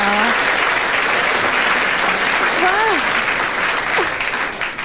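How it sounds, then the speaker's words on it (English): Warm audience applause at a live comedy show, a full steady clapping from the crowd with a few whoops rising over it, fading slightly toward the end. "Nice round of applause."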